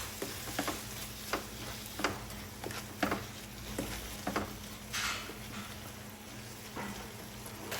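Tomatoes and shrimp cook in a pan for low-carb pinakbet, with a soft, steady sizzle broken by scattered scraping taps of a spoon stirring through the mixture.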